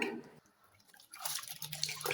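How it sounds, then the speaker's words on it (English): Water leaf for afang soup is washed by hand in a big bowl of water, giving soft sloshing and splashing that rises after a quiet pause, close and moderately loud. "wash it over and over until your water runs very clear"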